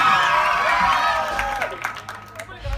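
Crowd applause and some cheering rise at a Mappilappattu stage show, first under a sung or spoken voice, then thinning into scattered claps.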